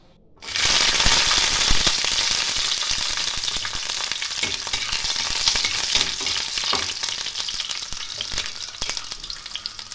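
Garlic cloves drop into hot oil in a pan while jackfruit seed bharta is being made, and a loud, dense frying crackle starts suddenly and keeps going steadily, broken by small pops and stirring rattles.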